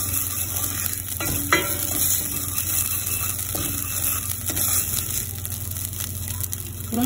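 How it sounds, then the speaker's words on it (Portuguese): Garlic sautés in a pan while a spoon stirs it, for creamy shrimp rice. A constant close sizzle runs under repeated scraping strokes and occasional light clinks against the pan. "Então a gente vai mexendo aqui até ele refogar,"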